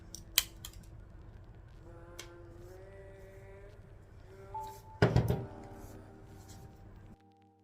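Small glass cutting nippers snip stained glass petals for a mosaic flower, with a sharp click near the start and a louder crunching cut later. A faint hum runs underneath.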